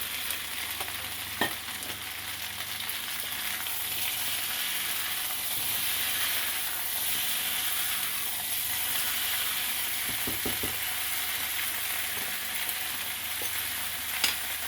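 Pork for adobo sizzles steadily in a hot pan, a close, continuous frying hiss with a few brief clicks and scrapes, and no voices.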